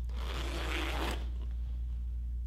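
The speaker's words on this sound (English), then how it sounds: "It's a two-way zipper" A two-way cloth-covered front zipper on a Propper ACU army combat uniform, one quick close zip lasting about a second, then near silence under a low steady hum.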